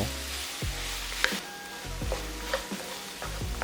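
Sliced apples stir-fry in a pan seasoned with sea salt and pepper, a soft steady sizzle broken by repeated scraping strokes of a utensil stirring the fruit, close and fairly quiet.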